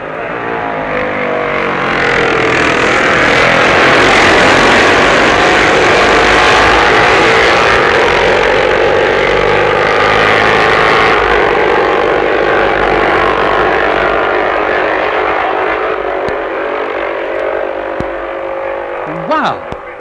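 Matchless and Norton racing motorcycles at the 1966 Isle of Man TT roar loudly and continuously as they round a corner. The dense engine noise swells and holds, with a voice partly audible beneath it.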